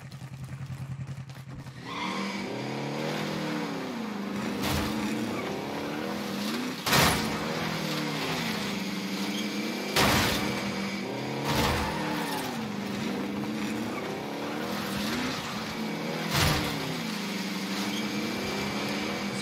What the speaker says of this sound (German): Sollen wir mit dem Auto schnell fahren?